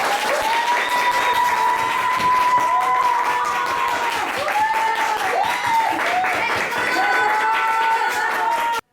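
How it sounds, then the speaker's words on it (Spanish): A storytelling talk audience in Medellín welcomes the speaker with loud, sustained applause. Dense clapping fills the room throughout, with sliding whoops and cheers rising over it at several points. "fuerte aplauso"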